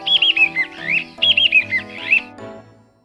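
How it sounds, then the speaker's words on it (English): A flycatcher calls in a clean, close recording, repeating two bright bursts of quick chirpy, squawking notes with a short gap between them, then fading at the end. "Flycatcher."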